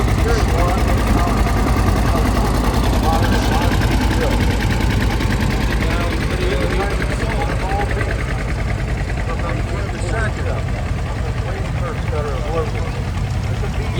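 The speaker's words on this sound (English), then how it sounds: "That's got a big old 281 cubic inch 4-cylinder gas engine available in diesel and propane too" An antique tractor with a 281 cubic inch 4-cylinder gas engine runs at a steady idle during an antique machinery parade, a loud, continuous low rumble with constant crowd and background noise throughout.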